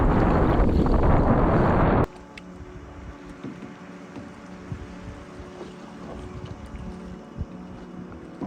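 Wind gusts roar loudly across the open water of a lake in the Adirondacks while canoeing late in the season, with a heavy blast for the first two seconds before easing into a steadier, softer rush.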